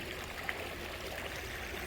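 A garden water feature trickles softly in a steady, continuous burble, faint and close, with no talking and a single small tap partway through.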